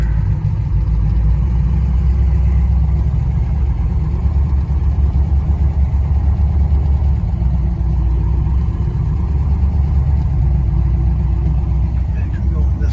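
A 1965 Plymouth Belvedere with low-hung headers rumbles steadily at low speed while driving across a yard, its deep exhaust note continuous and close throughout, with a voice talking over it.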